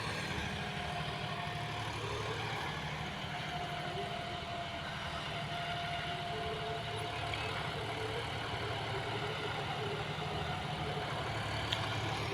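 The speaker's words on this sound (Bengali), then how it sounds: "এই গাড়িটা কত নম্বর গিয়ারে চলছে, ঠিক আছে, 5210 গিয়ার প্রো মডেল।" A John Deere 5210 GearPro 4x4 tractor engine runs in a field, a steady, unbroken low drone at constant speed, heard from a moderate distance.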